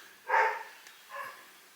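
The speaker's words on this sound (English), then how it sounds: "That's Woody barking in the background" A dog barks twice in the background, the first bark louder and the second softer, both faint and some distance off.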